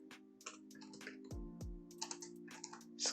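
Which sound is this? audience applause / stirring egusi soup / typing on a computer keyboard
typing on a computer keyboard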